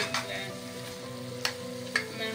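Whole green peppers sizzle and fry in a hot pan, a steady crackling hiss with a few sharp spatters and stirring clatters, close and moderately loud.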